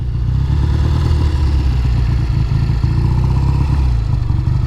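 A 1969 Triumph T120R motorcycle engine runs loud and close with a throbbing, even exhaust beat. It holds steady throughout, with no voices over it.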